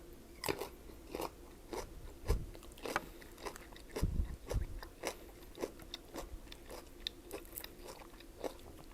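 Crunchy food being bitten and chewed close up, a string of sharp crisp crunches at an uneven pace, quiet and alone with no talk.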